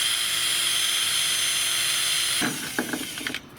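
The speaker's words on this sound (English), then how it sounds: "we'll drill a hole through that 50." A power drill whines steadily at high speed, then slows and grinds with a few rough catches while boring a hole through a 50-cent coin, before stopping.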